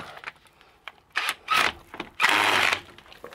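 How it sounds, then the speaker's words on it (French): Pneumatic impact wrench working the ball joint bolt on a Peugeot 206 1.4 HDi during a clutch replacement, loud close bursts of rattling hammering in two main runs, with quieter mechanical clicks and handling noise between them. "Allez, un petit coup de clé à choc."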